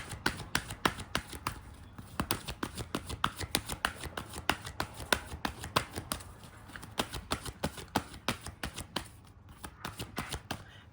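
Rapid riffle of playing cards being shuffled, bursts of sharp flicks repeating steadily for about ten seconds, close by with no talking.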